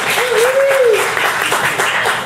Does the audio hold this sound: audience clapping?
yes